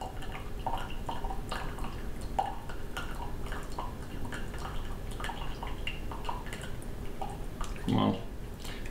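Tea slowly pouring from a hot Yixing teapot with leaves partly clogging the spout, a faint irregular trickle and dripping under low background noise, ending with a brighter splash.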